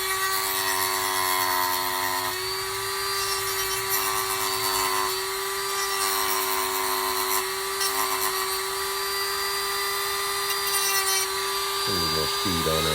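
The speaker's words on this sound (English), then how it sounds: "Just sanding down to my lines." A power sander works the edges of a purse holster for a Sig P365XL, a steady high-pitched whine that holds its tone throughout, with brief changes in load and a few short bursts near the end.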